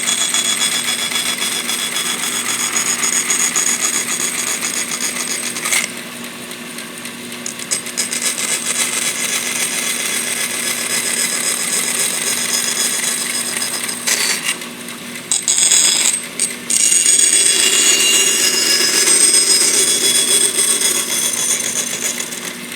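A wide-bladed saw cuts a notch in a wooden pattern for a John Deere "Amazon" cane mill main roller, giving a loud, continuous whining buzz with brief dips and breaks as the cut moves along.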